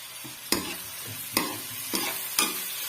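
Onions fry in mustard oil with a continuous close sizzle, broken by four sharp scraping stirs spaced about a second apart.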